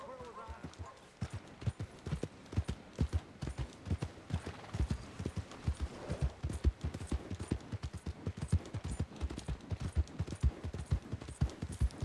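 Horse hooves clip-clop steadily in a video game, a continuous fast run of close, sharp hoof strikes with a brief whinny near the start.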